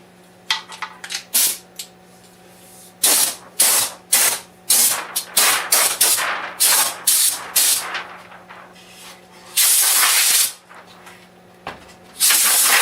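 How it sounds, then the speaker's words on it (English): Compressed air blowing off a golf ball setter during finishing, in a string of sharp hissing bursts, short and long, close and loud, with brief quiet gaps between them. "Take some air and blow it off."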